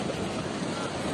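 Sea waves at night roll in as a broad, steady wash of surf with wind buffeting the microphone, loud and continuous over a brief moment.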